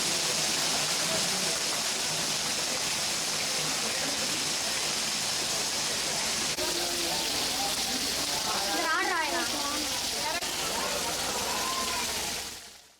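Heavy rain in the Atmakur area of Nellore district gives a steady, dense hiss that runs the whole time, with a voice briefly speaking over it midway.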